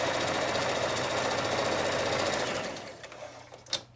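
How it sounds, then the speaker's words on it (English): Sewing machine stitching across the top seam of a fabric face mask, a loud, fast, steady mechanical whir close by that runs continuously, then slows and stops, followed by a short click. "And I'm going to sew across that 8-inch top."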